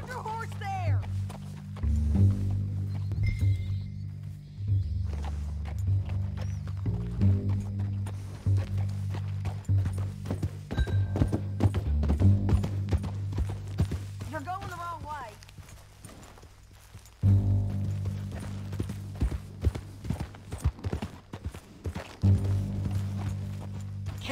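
Rhythmic hoof clip-clops of a horse walking in the video game Red Dead Redemption 2, steady and fairly close, beneath a low droning musical backdrop with occasional voices.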